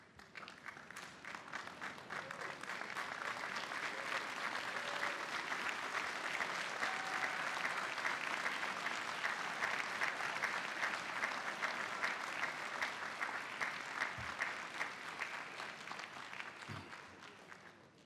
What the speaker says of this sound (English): the graduates could stand up, turn to your own families, and give those families a well-deserved round of applause